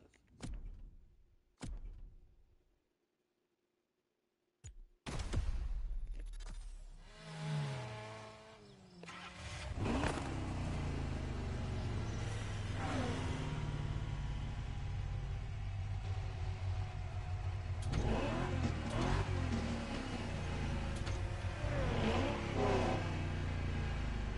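Japanese sports car in The Crew Motorfest racing game, engine revving and accelerating loudly after a few door-like clunks and a brief silence, the drone sustained and swelling through the rest of the clip.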